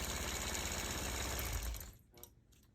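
A long-arm quilting machine stitching a disappearing nine-patch quilt, a rapid, steady mechanical whir and needle chatter that runs strongly for almost two seconds, then stops, leaving a few faint clicks.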